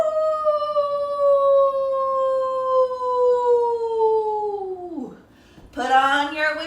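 A single long sustained wolf-like howl, loud and close, slowly falling in pitch before dropping away, then a second howl starts sharply, imitating a werewolf howling at the moon in a Halloween children's song.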